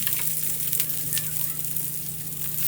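A methi paratha roasts with oil on a hot pan, giving a close, steady sizzle and hiss with a few brief crackles and a low hum underneath.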